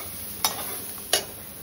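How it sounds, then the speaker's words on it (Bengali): Red lentils (masoor dal) are stirred and lightly fried in a pan, with two sharp spatula clicks about a second apart over a faint, quiet background sizzle. "ডালটা না জাস্ট একটু ভাজা ভাজা করবো"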